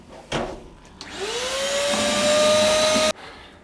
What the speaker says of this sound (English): a quick way to empty out your hydroponic systems if you don't have a pump that can pump it out is just use a wet and dry vacuum